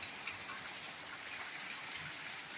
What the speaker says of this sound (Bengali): কী হারে বৃষ্টি হচ্ছে